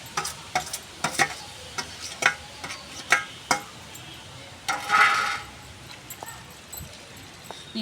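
Tomatoes and green chillies are crushed into chutney in a stone mortar with a series of close, uneven knocks and scraping grinds, with a longer rough scrape near the end.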